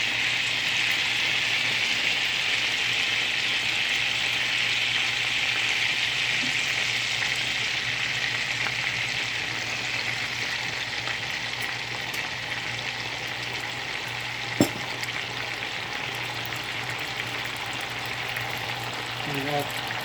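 Sauce hitting melted butter in a pot while making a seafood boil, giving a steady, even sizzle across the whole stretch with one brief clink near the middle.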